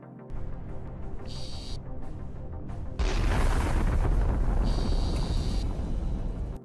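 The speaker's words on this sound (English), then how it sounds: "The tank is completely destroyed, engulfed in intense flames and explosions." A burning T-90M tank is engulfed in flames and explosions, heard as a dense roaring rumble with a heavier, louder blast surge halfway through, alone without voices.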